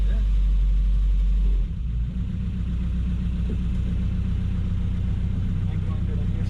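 A 1969 Opel GT engine idles steadily while warming up, a loud, close, low rumble that drops slightly in level after a louder opening and then holds an even hum with voices talking over it.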